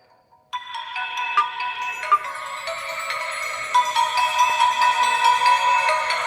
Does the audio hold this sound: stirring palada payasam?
no